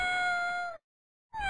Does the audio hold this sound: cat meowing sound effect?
yes